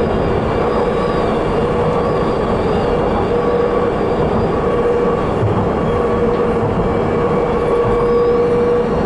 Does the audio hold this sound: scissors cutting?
no